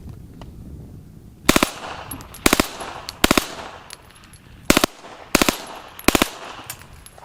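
An old machine gun switched to full auto fires several short bursts, close and loud, separated by brief pauses.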